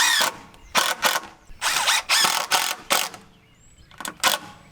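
Screws being driven to fasten a metal strap holding 1¼ inch conduit to a lower 2x6, a power driver whirring in several close bursts of about half a second to a second, with brief pauses between them.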